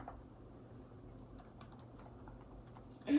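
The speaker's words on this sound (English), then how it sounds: "And random typing." Random typing on a computer keyboard, a quick irregular patter of key clicks at close range that swells louder at the very end, with no one speaking.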